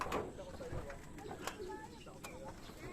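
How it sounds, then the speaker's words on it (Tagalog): A racing pigeon returning to its loft after a 434 km race from Matnog, Sorsogon gives soft, low coos amid outdoor background noise and faint voices, with a few brief sharper sounds. "Second bird ni kuya."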